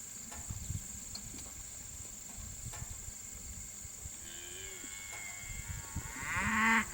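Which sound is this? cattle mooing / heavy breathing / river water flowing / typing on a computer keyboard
cattle mooing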